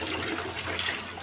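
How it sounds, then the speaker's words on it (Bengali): Tap water runs steadily while bitter gourd leaves are rinsed, a continuous close splashing hiss with no talk. "তো করলার পাতাগুলো ধুয়ে নিলাম"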